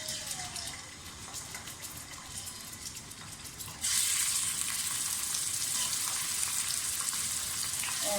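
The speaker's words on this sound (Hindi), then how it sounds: "सबसे पहले हम चिकन जो है उसको थोड़ा सा फ्राई करेंगे।" Mixed chicken pieces, about 1.5 kg, frying in roughly half a cup of oil, a dense close sizzle that jumps louder and brighter midway and holds steady to the end; no talking.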